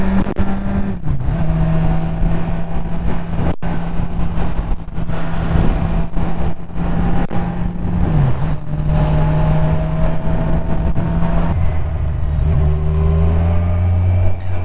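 A 2019 Kawasaki Ninja Z1000SX sports-tourer drones steadily under riding load, a continuous engine hum with slight pitch dips at gear changes and a shift to a lower tone near the end, heard from on the bike over wind noise.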